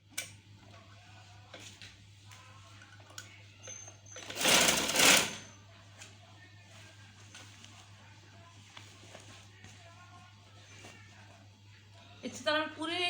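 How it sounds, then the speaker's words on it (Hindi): A sewing machine stitches the fabric of a homemade sewing machine cover, running as a steady ticking hum with a louder whirring burst in the middle and some faint talk near the end. "कट से मिला के मैं सिलाई कर देती हूँ।"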